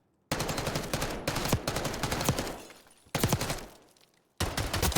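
Loud, rapid automatic gunfire in a Black Ops 6 gunfight, coming in three long sustained bursts separated by short gaps of near silence.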